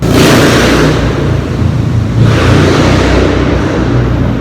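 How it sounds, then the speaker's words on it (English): A loud motorcycle engine revs and roars close by, rising and falling twice as it passes, with no talking. "Things like loud car noises like that never used to bother me."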